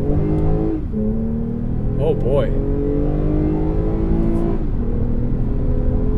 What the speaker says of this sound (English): I do have it in sport mode, so hopefully you'll be able to hear the exhaust as well.